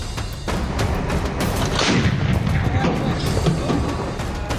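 Gunfire and explosions from fighting between Syrian government forces and rebels, with sharp shots and booming blasts in quick succession, loud and echoing, with no clear speech.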